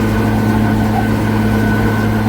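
A White farm tractor's engine drones steadily and loudly up close while making hay, a constant low rumble with no pauses.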